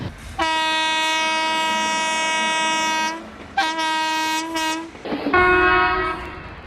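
An Indian Railways train horn sounds loud and close: two short blasts followed by one long blast, the chain-pulling signal, with no voices.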